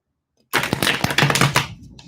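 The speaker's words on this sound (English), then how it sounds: "I'm just going to shuffle this." Tarot cards shuffled by hand during a live reading, a dense riffling clatter with sharp snaps that starts abruptly, runs about a second and a quarter, and then trails off.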